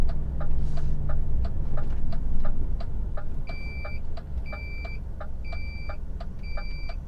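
Repeated short electronic beeps from a vehicle parking sensor, too close to a wall, in a steady rhythm, later in paired tones, over a low engine rumble at a retail distribution centre yard.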